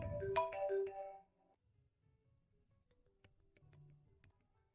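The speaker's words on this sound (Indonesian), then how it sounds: "Telepon." A phone ringtone plays a bright, melodic run of electronic tones for about a second, then cuts off, leaving faint scattered ticks and a low murmur in a quiet room.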